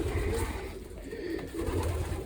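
Pigeons and newly hatched young pigeons coo softly inside an enclosed loft, a low murmuring that swells and fades, quiet and without voices.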